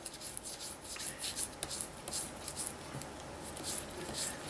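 A bone folder rubbing glitter into a stamped card background: soft, quiet, scratchy back-and-forth strokes in a continuous rhythm, heard up close with no talking.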